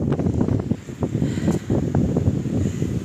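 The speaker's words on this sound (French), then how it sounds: "il y a beaucoup de vent aujourd'hui" Heavy wind buffets the microphone in continuous low rumbling gusts on the coast at Carqueiranne near Toulon, loud and close, with no other clear sound.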